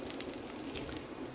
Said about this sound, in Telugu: వర్షం పడుతుంది కదా